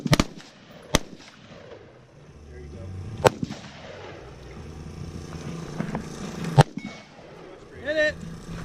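Rifle fitted with a bump stock fired outdoors in the desert, several sharp loud cracks spaced apart with a rumbling background and people talking between shots.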